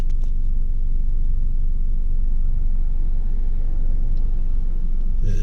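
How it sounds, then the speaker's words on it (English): Vehicles passing close by outdoors make a continuous, loud low rumble that holds steady for the whole stretch, with no voices over it. "there's vehicles next to me, but for the most part, it's quiet."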